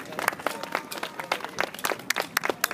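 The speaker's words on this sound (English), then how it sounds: "Still a big round of applause for all our kit carts" Scattered outdoor applause for kid kart racers at an awards ceremony at New Jersey Motorsports Park, a small crowd clapping irregularly at moderate distance.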